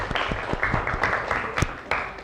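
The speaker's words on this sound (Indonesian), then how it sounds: "tepuk tangan untuk kita semua hari ini" Brief, moderately quiet applause from a class at the end of a lesson, a short scatter of hand claps.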